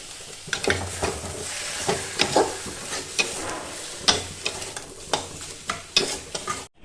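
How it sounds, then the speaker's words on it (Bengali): Prawns with chopped chilli sizzle loudly in a hot pan while a spatula stirs them in steady repeated scrapes, the frying hiss running continuously beneath the strokes. "সেই চিংড়ি মাছটা দিয়ে এটাকে ভালো করে নেড়ে নেবো"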